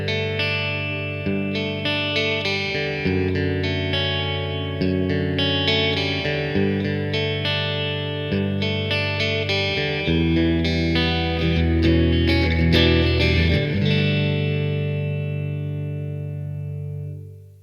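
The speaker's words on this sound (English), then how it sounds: "the first thing I'm going to do is add some reverb, and I'm going to go completely over the top with it" An electric guitar plays through a beginner amp with reverb cranked over the top, sustained chords and picked notes washing into a thick, echoing tail that rings out and fades at the end.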